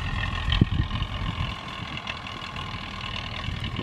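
A low, rumbling Belarus 800 tractor engine, over 20 years old, idles steadily with a constant drone, and there is a brief knock near the start.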